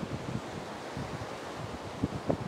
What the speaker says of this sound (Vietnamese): Gió quá.